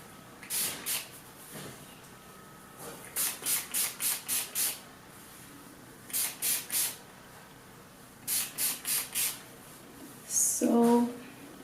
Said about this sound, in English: I'm gonna start by spraying my head with water